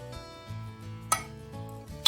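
A spoon folding an onion and bacon mixture into pasta for mac 'n cheese, giving soft scraping against a dish and a couple of sharp metallic clinks, all close up and under a steady background hum.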